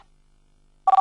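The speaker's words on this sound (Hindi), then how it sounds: "उसका फोन आ गया" A loud electronic telephone tone starts suddenly after near silence, pulsing in short repeated bursts like the opening of a ring.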